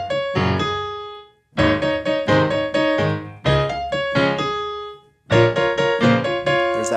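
Solo piano plays a section of a song, with chords and melody notes struck in four rhythmic phrases separated by short pauses, close and fairly loud, with no talking.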